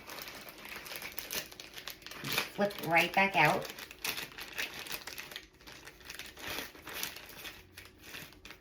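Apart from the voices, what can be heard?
plastic zip bag of chocolate being squeezed and handled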